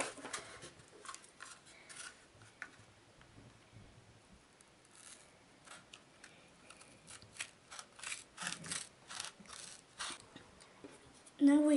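Scissors snipping paper pieces for a handmade snowflake: quiet, close, irregular clusters of crisp cuts and rustles that grow busier toward the end.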